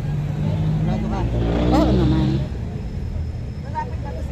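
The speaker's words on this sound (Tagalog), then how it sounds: "Tricycle." Motorized tricycle engine drones nearby and swells as it passes, a loud low rumble under people talking, then fading to a steadier background hum.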